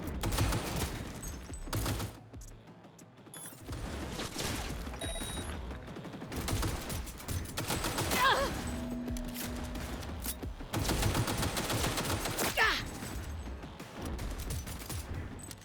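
Dense gunfire in Cyberpunk 2077 runs in sustained bursts and rattling volleys, moderately loud, with brief pauses and mechanical clatter between them.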